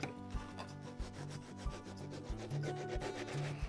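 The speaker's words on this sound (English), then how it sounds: "We can take the rasp and just smooth round." A rasp rubs around the edge of a wooden piece, making repeated close, gritty rasping strokes with a steady back-and-forth rhythm and no voices.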